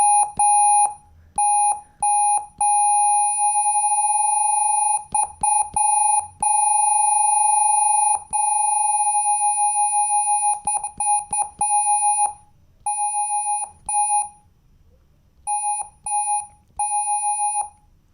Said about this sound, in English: So I'll take another sine wave.